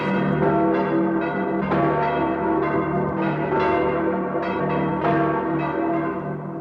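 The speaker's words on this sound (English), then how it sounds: "The bell that tolls for Easter morning also tolls for death." A church bell tolls in a slow, regular rhythm, each loud ringing strike leaving a long, rich hum of overtones that carries into the next stroke, with no voices.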